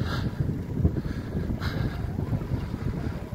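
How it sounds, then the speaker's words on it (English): Headwind buffeting a microphone on a bicycle ride, a loud continuous low roar of wind noise gusting unevenly across the whole stretch. "I'm pushing straight into the wind here, guys."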